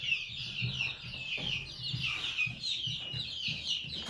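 Astrolog chicks, blue and black, chirp and peep in rapid high bursts close by, with a soft low fluttering of movement underneath and no voices.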